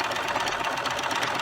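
A sewing machine stitches the seam of a fabric-strip tote bag, a fast, even mechanical chatter of needle strokes close up and running without pause.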